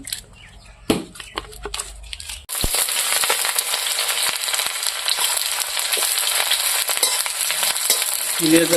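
Red chillies hit hot oil for tempering and erupt into a loud, steady, crackling sizzle that fills the space, after a couple of quieter seconds of light clinks and a single knock.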